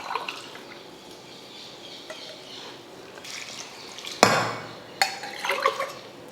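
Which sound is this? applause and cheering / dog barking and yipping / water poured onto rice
water poured onto rice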